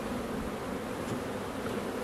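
Honeybees hum on a sparsely covered beehive frame during a hive inspection, a soft continuous buzzing drone, fairly quiet and steady, with no voices.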